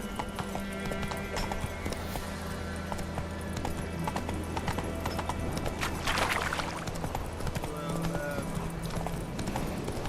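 Rhythmic clip-clop of the horse Roach's hooves galloping across ground in The Witcher 3, steady and close, with a whinny-like flourish midway and game voices speaking over parts of it.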